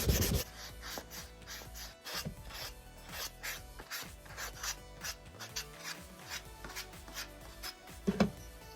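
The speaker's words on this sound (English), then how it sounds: "And now for everybody's favorite part, hand sanding." Wood is rubbed by hand with sandpaper in uneven, scratchy strokes, close and soft, with brief pauses between passes.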